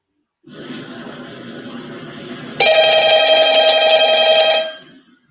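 An electronic phone ring in a Five Nights at Freddy's video game sounds steadily and loudly, preceded by a quieter buzzing tone, then cuts off.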